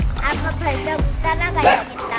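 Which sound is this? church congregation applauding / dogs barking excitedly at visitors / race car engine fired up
dogs barking excitedly at visitors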